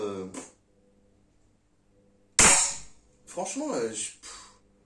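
A single sharp shot from a Langley Black Ops Soul 4.5 mm air pistol rated at 13 joules, loud and close, with someone talking before and after it.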